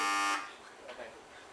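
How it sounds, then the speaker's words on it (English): A quiz contest buzzer gives one loud, harsh electronic blare that cuts off abruptly, followed by quieter room sound and faint murmurs. "we want to check the buzzers again"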